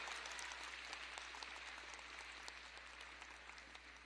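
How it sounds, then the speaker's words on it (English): Faint audience applause at a live Bhagavad Gita talent game show, a dense, even patter of many hands clapping, heard distantly and steadily throughout. "Let's give a round of applause."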